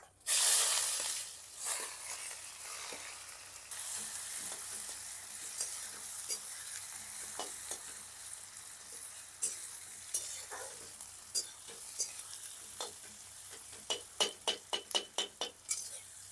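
Onions sizzle in hot oil with bay leaf, dried red chilli, cumin, cinnamon, cardamom and cloves for a thin goat mutton curry. A steady close frying hiss runs throughout, broken by stirring scrapes, and a run of quick metallic clinks comes near the end.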